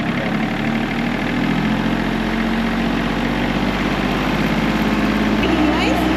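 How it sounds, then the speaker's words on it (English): A tractor engine is run up to full revs, producing a loud, steady mechanical drone with heavy low vibration that holds without a break from start to finish. "Now I'm going to turn the revs all the way up."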